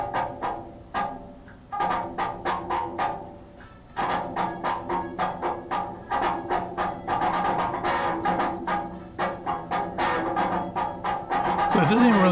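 Electric guitar played through a small Orange amp into a mechanical filter, giving a percussive, knocking attack on each repeated hit before chords ring out, steady rhythmic strikes, close and fairly loud.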